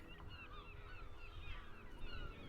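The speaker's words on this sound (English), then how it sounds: "Hear those seagulls." Seagull calls rise and fall in a faint, distant chorus over a steady low ambient hum, from the harbour setting of the video game Disco Elysium, with no speech.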